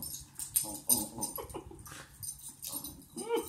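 A puppy whimpers in short, uneven high whines and breathy squeaks, close and fairly soft, with small pauses between bursts.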